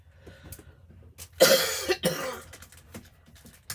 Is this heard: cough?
yes